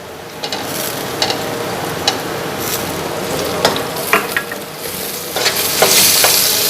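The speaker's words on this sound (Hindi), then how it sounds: "तो अब हम इसे 2-3 मिनट तक इसे अच्छे से भूनेंगे। अब मैं इसमें टमाटर भी डाल दूंगी।" Chicken and okra sauté in a pan, making a continuous close sizzle with intermittent stirring scrapes and light utensil knocks, loud and alone without talk.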